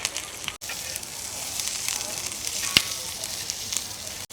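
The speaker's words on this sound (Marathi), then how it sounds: "कसा आवाज यायला लागला मिरची भागल्याला सर सर" Green chillies roast in a little oil for a Jalna-style chilli kharda, giving off a steady, close hiss and crackle that holds across the clip, broken by two brief dropouts.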